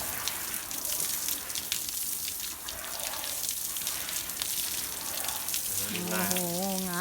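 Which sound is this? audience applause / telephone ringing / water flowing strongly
water flowing strongly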